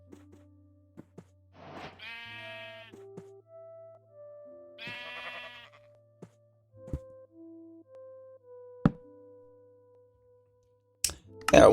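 Sheep in Minecraft bleat twice, each cry a short wavering burst, spaced a few seconds apart, followed by scattered game clicks, thumps and a loud crunch at the end; no talking.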